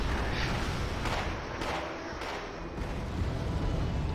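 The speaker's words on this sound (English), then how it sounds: "You'll see here that we get quite a few nice bombing hits off of his little BTR column" Bombs from cheap French bomber planes strike a BTR armored column in Wargame AirLand Battle, a dense rumbling barrage of overlapping blasts filling a few seconds, loud and continuous.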